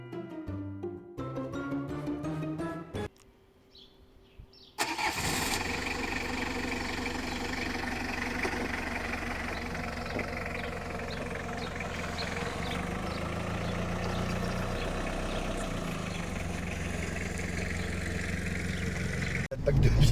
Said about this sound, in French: Passons dans un instant au bruit de ce moteur.